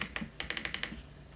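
Buttons on a Behringer RD-8 drum machine are pressed in a quick series of about eight crisp, quiet clicks with a hefty, mouse-like feel, heard close up with no talking.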